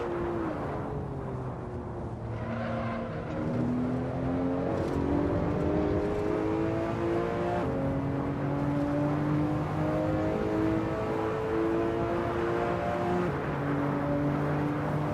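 Porsche 911 Turbo S engine revving steadily in the racing game Assetto Corsa, with shifting harmonic tones rising and falling through gear changes as the car runs through corners, loud and continuous throughout.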